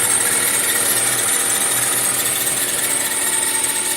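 A 2002 Toyota Camry with a 2.4 liter engine runs with a steady, loud, continuous high-pitched squeal over the motor's drone, heard close up without speech.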